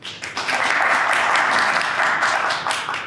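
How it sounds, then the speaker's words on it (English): An audience at a summer fellowship closing presentation gives a round of applause, a dense, loud burst of many hands clapping that swells quickly, holds steady and begins to fade at the end. "How about a big round of applause?"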